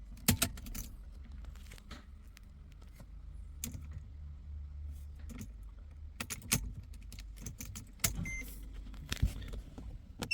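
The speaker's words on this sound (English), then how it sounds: "Switch off the ignition." Car ignition switched off with the key, a few sharp clicks and light key jangles over a low idle hum that settles quieter, scattered irregular taps close by.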